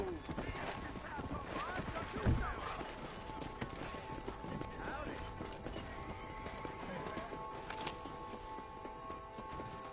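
Horses gallop in the video game Red Dead Redemption, with steady clip-clop hooves throughout and a distinct whinny near the two-second mark, all under game ambience and spoken voice.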